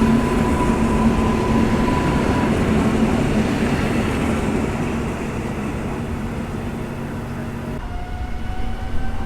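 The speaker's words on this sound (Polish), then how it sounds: "pociąg z Siedlec do Warszawy Zachodniej rusza w kierunku przystanku Warszawa" A passenger train from Siedlce to Warszawa Zachodnia pulls out of Warszawa Wschodnia station, a loud, continuous rumble of wheels and motors with steady tonal whine that shifts slightly in pitch, close by and with no talk.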